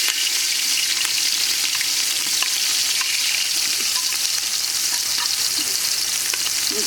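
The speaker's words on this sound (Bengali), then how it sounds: "সুন্দর করে তৈরি কষে নেব" Raw papaya curry with spice paste, shrimp, salt and garlic paste sautéing in a pan, a steady dense sizzle and crackle running unbroken and fairly loud from start to finish with no talking.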